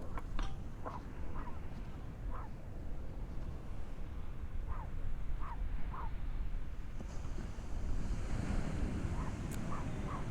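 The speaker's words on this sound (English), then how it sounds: "There's more of the ocean." Ocean surf rolls steadily with wind buffeting the microphone throughout, a broad continuous wash with faint higher chirps scattered over it and no voices.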